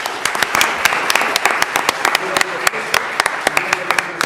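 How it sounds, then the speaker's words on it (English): Audience applause at a Danville city council meeting, a moderate crowd clapping steadily with some sharper individual claps standing out, close and continuous throughout. "Let us just applaud you all as well."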